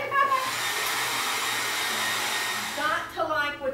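A handheld dryer blows steadily on wet paint over a mixed media background, a loud continuous whirring hiss close by, with faint voices and a few squeaky sounds near the end.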